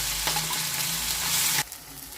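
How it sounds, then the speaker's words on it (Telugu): A masala paste with curry leaves fries in a pan, giving a loud, close, steady sizzle that cuts off sharply near the end, leaving a quieter hiss, with no voices. "దీన్ని కొద్దిగా వేగనిద్దాము."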